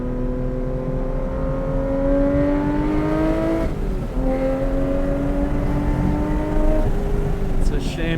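A sports car on questionable tires runs a track lap, its engine revving as the pitch climbs steadily, drops sharply at an upshift around the midpoint, then rises again. It is loud and close from the cabin, with a driver talking over it.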